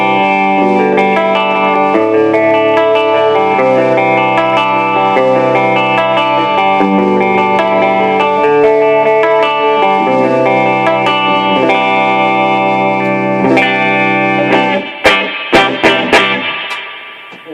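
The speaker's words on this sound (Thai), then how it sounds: "เสียงรีเวิร์บนี่แบบสุดยอดเลยครับ" Electric guitar played through a Fender Deville amp with reverb: sustained chords ring out loud and steady with a lush reverb wash, ending in a few sharp strummed hits that echo away.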